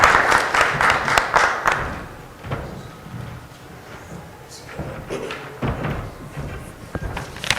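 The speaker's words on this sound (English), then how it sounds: "sous vos applaudissements" Applause at a formal official ceremony in Guinea for the minister of economy and finance, a loud burst of clapping that fades quickly into scattered, irregular claps and thumps.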